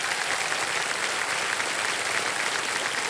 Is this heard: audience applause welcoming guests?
yes